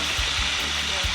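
A sauce with sweet soy sauce and vinegar bubbles and sizzles loudly in a pan as it is stirred, a dense close hiss with a few low thumps of the utensil.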